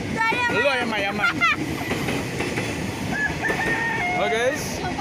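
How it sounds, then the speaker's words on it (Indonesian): A rooster crows beside a railway line outdoors, its call rising and falling near the end amid busy ambient noise, with people talking throughout. "Itu ayam. Mana ayam?"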